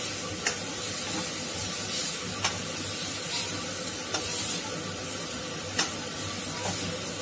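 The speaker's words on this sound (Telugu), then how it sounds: "అందులోకి కారం అర స్పూన్ వేసుకొని కలుపుకోవాలి" Chili powder stirred into samosa filling in a hot pan, a constant frying sizzle with four or five evenly spaced scrapes from a spoon against the pan, close and without talk.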